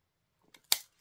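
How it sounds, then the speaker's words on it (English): Scissors snip the corners off paper tabs in a papercraft project, a few quick close cuts with one sharp snip standing out. "So I'll snip those two off there."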